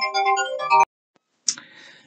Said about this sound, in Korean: 이 시간에 지금 전화가 잠깐 왔네요